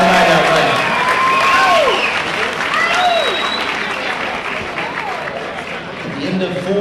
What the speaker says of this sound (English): how about a big round of applause for both fighters